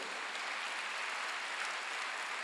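Continuous clapping from a church congregation at Sunday worship, a dense, even wash of applause with no voices over it.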